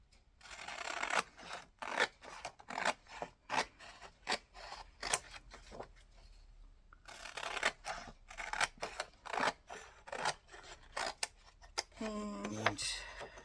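Scissors snip through a paper scrap for a collage in a quick series of close, crisp cuts, pausing briefly midway, then a final crinkle of handled paper.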